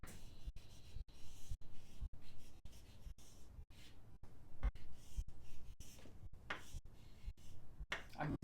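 Pen or marker writing out a circuit diagram on a board for a physics lesson on circuits, a steady scratchy stroking broken by many brief pauses, close and fairly faint.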